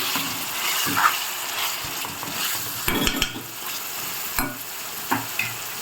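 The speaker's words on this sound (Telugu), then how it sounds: "ఇప్పుడు చికెన్ వేసుకున్నాను చికెన్ వేసిన తర్వాత ఒకసారి తిప్పాలి" Chicken being stirred in a pan with ginger garlic paste and onion for Andhra-style curry makes a steady sizzle broken by several scraping stirs and knocks against the pan, close by.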